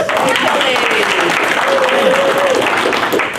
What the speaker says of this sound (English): Give Kelly a round of applause.